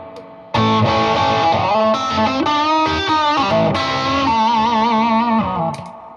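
An electric guitar played through a JHS Marshall-style distortion pedal, with a Rick Vito Soul Agent pickup, rings out loud and alone in a sustained, gritty phrase of held chords and bends before cutting off.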